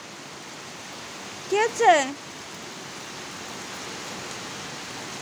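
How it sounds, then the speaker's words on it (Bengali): Heavy rain makes a steady, fairly loud wash of hiss from start to finish, while a person briefly asks a short question partway through. "অনেক জোরে বৃষ্টি হচ্ছে।"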